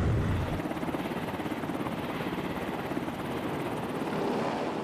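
A naval helicopter from an aircraft carrier air wing chops in a steady, rapid rotor thrum with a broad engine roar, close and loud throughout.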